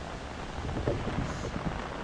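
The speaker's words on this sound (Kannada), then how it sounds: "ನೋಡ್ಬೇಕು ಹೆವಿ ಮಳೆ ಬರ್ತಾ ಇದೆ ಇಲ್ಲಿ." Heavy rain pours steadily in the Kudremukh range forest along the Charmudi Ghat road near a roadside waterfall, a dense, constant hiss with no voices.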